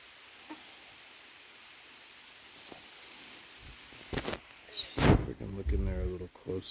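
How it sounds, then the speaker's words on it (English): Rain falls on a forest canopy in the Catskill Mountains at blue hour, a soft, steady hiss that later gives way to closer bumps and voices in the final seconds. "the canopy is protecting quite a bit of the rain,"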